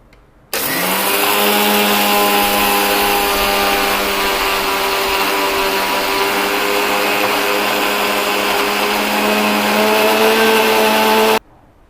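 A mixer grinder whirs loudly and steadily as it grinds foxtail millet dosa batter, running for about eleven seconds after a sudden start and stopping abruptly.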